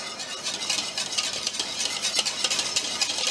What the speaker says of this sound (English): so once the seasoning is done, then you stir well